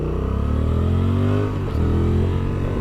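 A 2024 Honda Transalp motorcycle accelerates hard through the gears, its engine note climbing loudly and steadily, breaking briefly for a shift, then pulling again close to the microphone.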